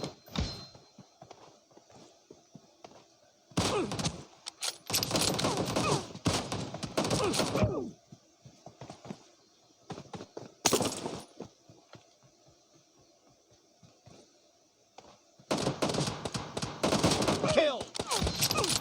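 Gunfire in PUBG: several loud bursts of rapid automatic shots in clusters separated by quieter stretches of footsteps and faint game ambience, close and sharp.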